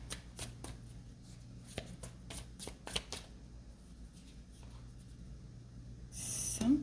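Tarot cards shuffled by hand during a reading, a run of quick papery riffles and soft slaps in uneven bursts, close and fairly quiet, fading to a duller rustle toward the end.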